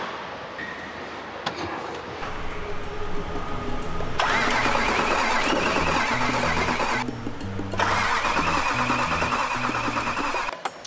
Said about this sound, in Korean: 시동 한번 걸어봅시다